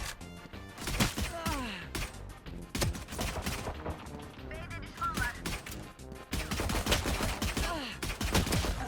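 Dense, rapid gunfire from the video game Valorant, with bursts and single shots overlapping throughout, loud and busy, mixed with game effects and someone talking over it.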